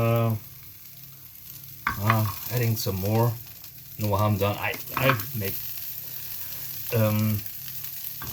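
Steady frying sizzle of acorns roasting in a hot, dry frying pan runs throughout, with a person talking over it in several bursts.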